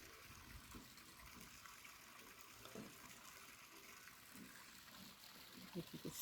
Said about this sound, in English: the way the river's flowing.